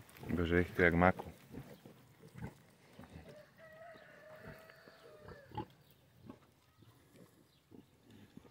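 Small piglets on a farm grunt in short, soft bursts at close range, scattered through the clip after a brief loud voice at the start, with faint background noise between.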